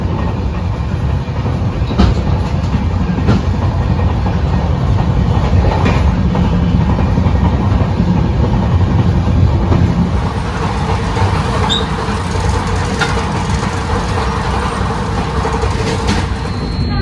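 Tejas Express on the Mumbai to Madgaon run, heard from inside a moving coach as a steady loud rumble with rhythmic wheel clatter over rail joints, continuous throughout without talk.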